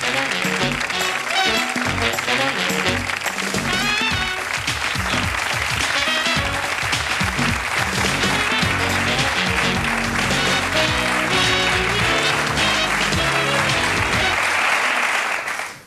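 Studio audience applauding a band on a television show, a loud, dense and sustained wall of clapping that holds steady for the full length before cutting off abruptly at the end.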